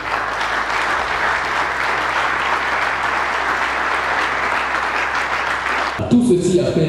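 Applause from a conference audience, loud and sustained clapping from a large crowd lasting several seconds before stopping abruptly.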